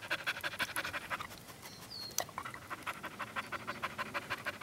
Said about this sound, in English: Yeah, you're a good dog, Elsie.